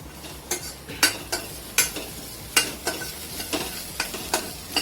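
A tadka base frying in ghee crackles and sizzles steadily, with sharp rhythmic scrapes of a spoon stirring the pan, close and clear, no voices.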